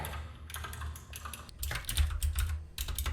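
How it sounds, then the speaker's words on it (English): Rapid typing on a computer keyboard, a dense run of close key clicks in uneven bursts with short pauses, over a low background rumble. "What am I typing?"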